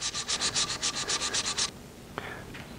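Burnishing box elder wood spinning on a lathe: about a dozen rapid rhythmic rubbing strokes, close and fairly loud, then a brief scrape and quieter background.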